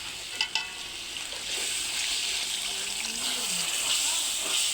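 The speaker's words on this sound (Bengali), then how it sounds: "এখন দিয়ে দিলাম পানি।" Water is poured into a pan of curry spiced with turmeric and chili powder, setting off a loud, steady sizzle and hiss after a couple of brief clinks at the start.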